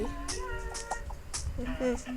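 Video game chicken clucks in a capybara evolution game, short bird-like calls repeating over a busy, steady layer of other game sounds.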